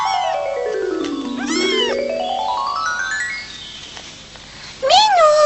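A cartoon cat meows in long, sliding cries, one drawn-out meow falling then rising, then a short bright meow near the end, heard clearly up close with no talking.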